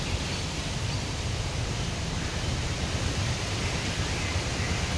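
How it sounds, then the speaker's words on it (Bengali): Steady wind blows hard across the microphone outdoors, a continuous loud rushing roar that never lets up. "হাওয়ার আওয়াজ শুনেছো?"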